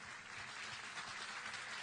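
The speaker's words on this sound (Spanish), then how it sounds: "darle un aplauso amoroso" An audience at a political event in Venezuela gives steady, quiet, distant applause to a visiting Chinese delegation.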